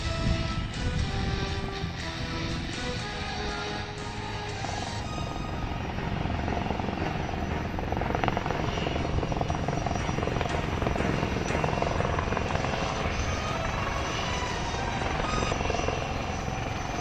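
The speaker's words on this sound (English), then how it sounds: "that completes the display by the light combat helicopter" A light combat helicopter flies close by during an air show display, its rotor thudding loudly and steadily with a broad engine roar that holds throughout.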